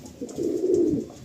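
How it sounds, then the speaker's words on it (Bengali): A single drawn-out, throaty coo rolls from a nearby male Andhra high-flyer pigeon, a white Regdar, swelling in the middle and fading at the end, with no voices present. "দেখো পায়রা"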